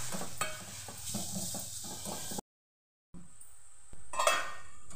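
A spoon stirs amaranth leaf curry with salt in a pot, giving soft scraping and clinking strokes with a faint sizzle, broken by a short silence before more clattering resumes.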